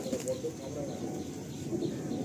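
Madrasi pigeons in a Kolkata loft give low, soft, repeated coos close by, layered over a rustling background, with no talk.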